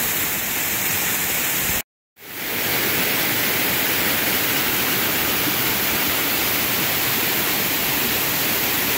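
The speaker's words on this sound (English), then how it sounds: "We've now come down to the bottom of Willet Falls." Willet Falls, a waterfall fed by a creek through palm trees and moss-covered rocks, pours as a loud, constant broadband roar heard up close at its base, broken only by a brief dropout.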